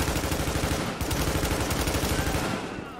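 Rapid automatic gunfire from a weapon in the video game The Division, a loud, continuous stream of closely spaced shots that pauses briefly near one second, then resumes and tails off at the end.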